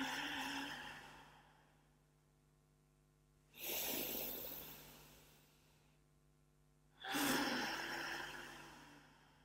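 Two deep, breathy exhalations during a breathing exercise, each a loud rush of air that starts abruptly and fades slowly, spaced a few seconds apart, with a quieter steady hum in the gaps.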